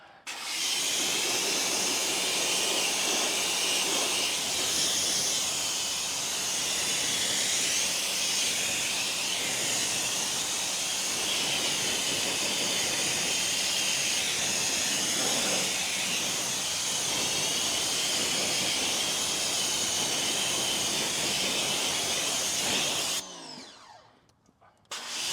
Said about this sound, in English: So make sure you give it a really good rinse, get into those barrels, things like that.